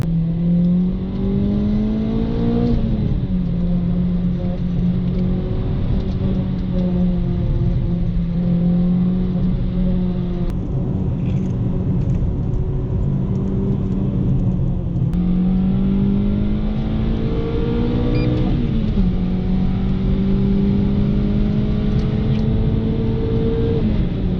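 A Renault Clio RS hatchback engine revs hard at high rpm, its tone climbing and holding steady before dropping at each gear change, then rising again. The sound is loud, continuous and close, heard from inside the car, with no talk.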